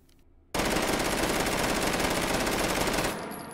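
Sustained automatic gunfire from a PP2000 fitted with a muzzle brake in the H3VR virtual reality game, a loud unbroken burst of about two and a half seconds that starts abruptly after near silence and then cuts off.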